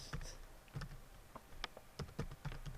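Quick light keystrokes on a computer keyboard while entering a user login name, about a dozen irregular clicks in a short burst, close and fairly quiet.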